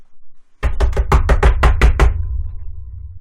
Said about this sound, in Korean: 대문을 두드리는 소리가 온 집안에 요란하게 울려 퍼졌습니다.